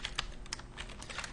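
Quick, light keystrokes on a computer keyboard, about a dozen soft close clicks in a brisk irregular run, with no talk over them.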